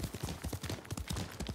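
Hooves of the horse Kaga in the video game Ghost of Tsushima, a quick steady clip-clop gallop of repeated thuds, close and moderately quiet, with no talk.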